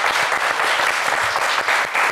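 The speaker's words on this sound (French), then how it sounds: "On peut vous applaudir encore." Studio audience on a TV quiz game show claps for a qualified contestant, a brief, loud, even burst of many hands with no voices heard.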